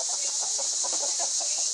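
Chickens cluck in a short run of soft, repeated calls outdoors during a solar eclipse, nearby but fairly quiet over a steady high hiss of background noise.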